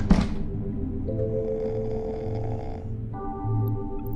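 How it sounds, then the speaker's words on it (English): A character in The Wolf Among Us snores in slow, rhythmic rasping breaths, close and fairly loud over quiet game background music, following a brief sharp sound at the start. "That dude is snoring."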